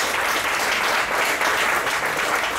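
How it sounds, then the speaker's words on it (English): Audience applause for performers at an event opening, a dense steady patter of clapping heard alone and fairly loud from start to finish. "Let's give them another round of applause."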